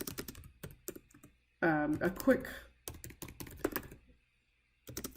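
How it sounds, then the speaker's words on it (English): Quick bursts of clicky keystrokes on a computer keyboard type out a short sentence, close and crisp, pausing while a voice briefly speaks between them. "typing just a quick sentence here"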